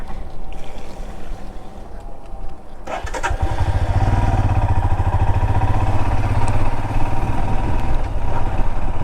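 Electric motorbike rolling downhill on a hill road with water crossings, giving a steady whirring drive hum with rushing wind noise that rises and stays loud from about three seconds onward, with no spoken voice.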